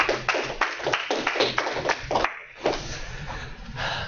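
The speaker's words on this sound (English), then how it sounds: "I was tepid clapping" Scattered, half-hearted hand claps from a lecture-hall audience in an introductory programming class, a handful of loose claps over a few seconds that fade into room noise.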